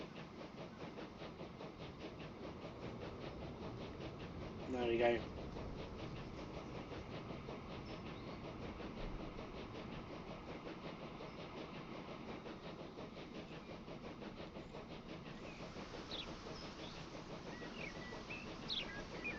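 Steam-era locomotive in the railway game Transport Fever 2 gathering speed, a steady rumbling chug running throughout with a brief louder burst near the middle, no talk over it.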